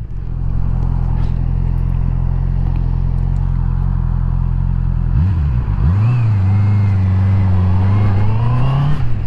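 A 2021 Honda CB650R motorcycle rides along with a steady engine drone, then the revs dip and climb again as it changes speed, with wind noise throughout.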